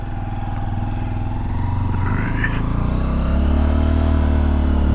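A 2023 Honda XR150L 150cc motorcycle engine drones steadily up close, its low, even hum swelling slightly as the ride goes on, with no talking.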